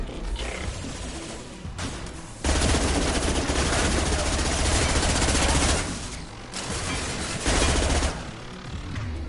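Rapid automatic gunfire in Mass Effect 2, loud and continuous in long sustained bursts with brief pauses between, no voices over it.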